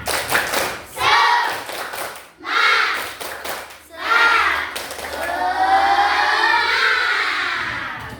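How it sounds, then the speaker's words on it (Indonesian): A classroom of children performs the rhythmic 'tepuk semangat' clapping chant, with loud bursts of hand claps in several rounds punctuated by brief pauses and voices calling along. "Ya, sekali lagi tepuk semangat."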